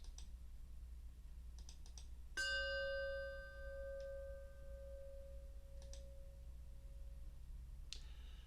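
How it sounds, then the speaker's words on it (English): A single struck chime rings out with a clear metallic tone and long sustaining decay over quiet room hum, with a few faint clicks around it, no talking. "As we listen to the chime, let us remember our connection to each other and the world around us."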